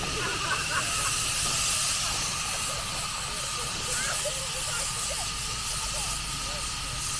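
A steady, broad hiss of escaping steam from a model steam engine fills the whole stretch, continuous and fairly loud, with faint mechanical sounds and a voice underneath.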